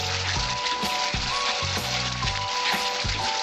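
Masala for katla fish kalia sizzles steadily in a pan over low heat, a constant frying hiss broken by regular soft scraping strokes as it is stirred.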